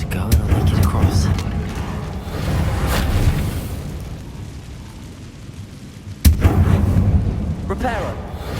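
A fiery Incendio spell in the video game Hogwarts Legacy bursts out as a rumbling, booming blast, with a sharp loud crack near the end among softer whooshing surges.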